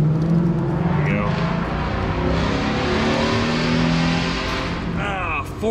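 A Jeep Wrangler 3.8 V6 with a P0300 misfire fault revs hard to about 4,000 RPM on a cold start, a loud, close, sustained engine roar that holds steady and eases off near the end.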